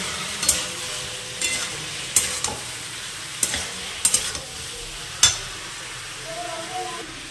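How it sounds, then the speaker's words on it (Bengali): A curry is sautéed and stirred in a pan under a constant soft sizzle, with sharp scrapes and clanks of the spoon against the pan every second or so. "তরকারিটা ভালোভাবে কষিয়ে নিচ্ছি"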